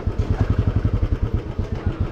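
An Aprilia SR 160 runs close by with a loud, steady engine chug, its fast rhythmic pulses thumping evenly throughout with no talk over it.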